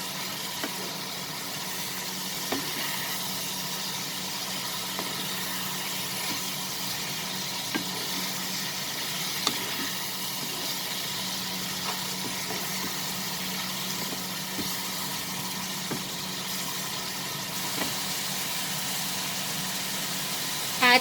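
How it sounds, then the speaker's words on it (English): Chicken and mixed vegetables, including capsicum, saute in a pan with a steady, soft sizzle and occasional stirring scrapes, running evenly and close throughout. "We'll saute this."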